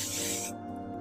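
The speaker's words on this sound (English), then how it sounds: "So you're going to take some 505 spray" A can of 505 spray adhesive hisses onto fabric in a short, steady burst that stops abruptly halfway, leaving a quiet hum.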